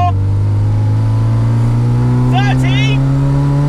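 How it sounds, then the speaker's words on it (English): A 1991 Robin Reliant three-wheeler accelerates hard in second gear with the throttle floored, its small engine droning loud and close with a steadily rising pitch, and a brief squeak cuts through. "Second gear, here we go, 20 miles an hour, foot to the floor."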